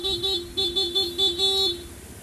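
An aftermarket loud horn on a Honda ADV 160 scooter, set to a rapid mode, blares in a quick series of about six short, close, loud bursts before stopping.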